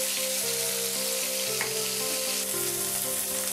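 Onion paste frying in a pan while being stirred, a steady close sizzle over a low humming tone, continuous and even throughout with no voices.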